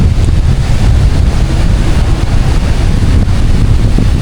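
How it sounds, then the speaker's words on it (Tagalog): Strong wind in stormy weather on the coast, roaring and buffeting the microphone in a constant heavy rumble, with faint surf in the background. "Grabe pong hangin."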